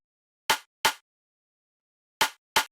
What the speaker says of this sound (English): which is kind of like a punchy, like rim shot style snare